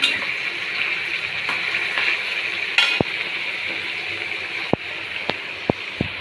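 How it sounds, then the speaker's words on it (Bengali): Fish cooks in a pan with potato and onion, giving an even, moderate sizzle and hiss with a few sharp clicks and knocks near the end. "দেখো মাছ রান্না বসিয়ে দিয়েছি যে মাছ ভেজে দিয়েছি আর এখানে আলু দিয়েছি একটা পেঁয়াজ দিয়েছি"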